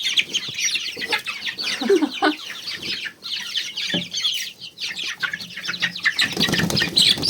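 Naked-neck chicks and young chickens clucking and chirping busily at close range while being moved into a barn, with brief wing flaps and rustling.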